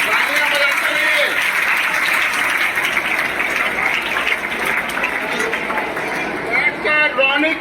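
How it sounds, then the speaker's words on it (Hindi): Children at a school awards event for a talent search exam clap in a steady, loud, continuous wash of applause that lasts the whole stretch. "तालियां बजनी चाहिए बच्चों, तालियां बजाते रहिए।"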